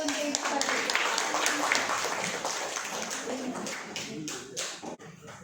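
A small audience at a school teachers' session claps for Ibu Fadli, a dense patter of hand claps that fades toward the end, with talking mixed in.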